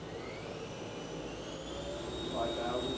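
Spindle of a Haas vertical machining center spinning up toward about 5,000 RPM, a steady whirring hum with rising tones climbing smoothly and continuously, fairly loud and close.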